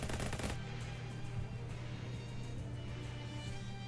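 A short burst of rapid automatic gunfire opens the moment in the Shadows over Loathing video game, loud and dense for about half a second, then gives way to a steady low ambient hum.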